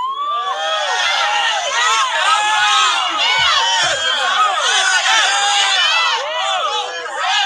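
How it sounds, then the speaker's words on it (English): A loud crowd cheers and shouts continuously, many excited voices whooping together at close range. "Round of applause."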